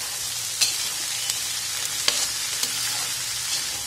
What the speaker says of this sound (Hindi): अब इसमें हम चने डालेंगे, ठीक है, उबले हुए चने इसमें हमने डाल दिए